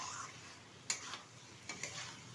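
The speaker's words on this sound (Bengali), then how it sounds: "ফুলকপি আর আলুটা দিয়ে ভালোভাবে আবারও একটু কষিয়ে নেব" Fried potato and cauliflower are stir-fried in spice paste, with a faint background sizzle and a few light scraping clicks of a utensil against the pan.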